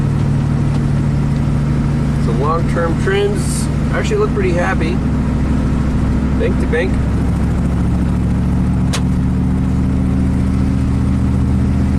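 Chevy dump truck with a Vortec V8 and a misfire idles steadily up close, with a low constant engine hum and a slight exhaust leak, while someone talks over it.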